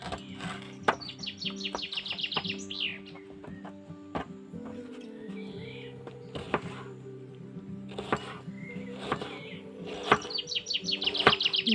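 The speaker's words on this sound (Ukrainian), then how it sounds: "коли пташки співають, дичка плюскається" Birds chirping and twittering in repeated bursts over a steady outdoor riverside background by the Southern Bug in summer, with clucking fowl and scattered knocks nearby.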